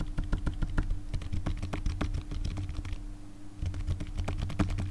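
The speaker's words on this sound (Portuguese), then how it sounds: "Agora comparando aqui o som dos teclados." Rapid typing on a Logitech MK295 computer keyboard gives a quick series of soft, muted key clicks and thumps, close and fairly quiet, with a brief pause before the keystrokes resume.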